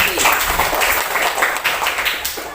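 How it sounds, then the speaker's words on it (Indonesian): A classroom of students applauds a classmate named Rizky, a dense, steady wash of many hands clapping close by for a couple of seconds. "tepuk tangan dulu untuk temannya Rizky"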